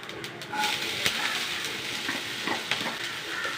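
Onion sizzling and frying in coconut oil with mustard seeds, chana dal, urad dal, ginger, green chili, tomato and curry leaves; a steady close hiss punctuated by sharp stirring clicks and spatters.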